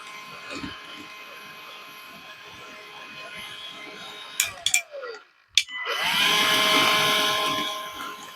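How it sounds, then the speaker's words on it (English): A heat gun blows on a custom water slide image transfer, its steady whirring hum cutting off with a few clicks, then restarting with a loud airy rush that holds to the end. "Get a heat gun"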